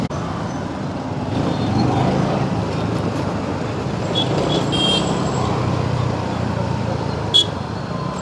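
Steady road traffic rumbles on a busy road, cars and buses passing nearby with a continuous wash of engine noise and a brief horn toot near the end.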